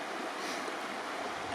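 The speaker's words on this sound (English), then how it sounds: "There's the Mattawa River." The Mattawa River flowing, a broad, steady rush of moving water heard from a height, with a faint wind hiss and no voices.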